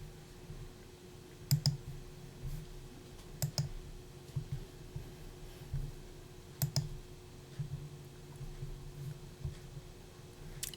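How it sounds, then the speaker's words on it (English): Soft, close mouse clicks come singly and in quick pairs at irregular intervals in a quiet room, with faint low background hum. "I'm gonna click on submit device request"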